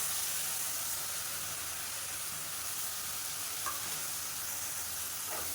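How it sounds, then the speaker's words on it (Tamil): Ground shallot paste with ginger and garlic sautés in a pan for a Madurai-style chicken curry, giving a constant dense sizzle with faint stirring, heard alone without speech. "இப்போ அதை நல்லா வதக்கிக்கலாம் அந்த வெங்காயம் இஞ்சி பூண்டோட பச்சை வாசனை போகிற அளவுக்கு வதக்கிக்கலாம்"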